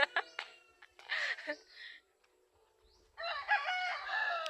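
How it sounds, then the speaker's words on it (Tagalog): A rooster crows in bursts nearby, with a pause between calls and some clucking mixed in. "mga manok nila guys."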